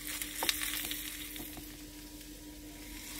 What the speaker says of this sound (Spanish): Ahora cogemos el pescado y los mejillones y lo rehogamos con el tomate.